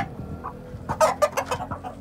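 A hen beside a fighting-breed gamecock gives a short burst of close, loud clucks, several quick clucks in a row over a quiet background.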